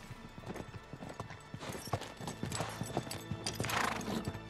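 Horse hooves clip-clopping at a steady gait in the video game Uncharted 3: Drake's Deception, with an occasional neigh and faint game background sound, fairly close and loud throughout.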